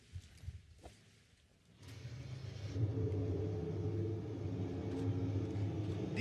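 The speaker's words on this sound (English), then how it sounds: "This sound, this engine that you're hearing, is the new 62 Evo engine" A 2018 Ferrari SF71H Formula 1 car's 062 Evo engine fires up after a quiet moment and holds a loud, deep, steady roar with a high rasp, close by.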